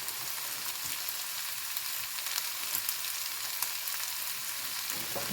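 Chicken breast with parsley fries in a pan as samosa filling, giving a steady, dense sizzling hiss that stays even and close throughout, with no talking.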